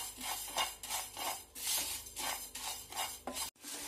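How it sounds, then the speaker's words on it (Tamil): Brown rice dry roasted in a pan without oil, with steady rhythmic bursts of grains scraping and rattling against the metal as they are stirred, close and moderately loud, ending in a brief pause. "ப்ரவுன் ரைஸ் முக்கால் கப் எடுத்துக்கோங்க. எண்ணெய் விடாம வறுத்துக்கோங்க."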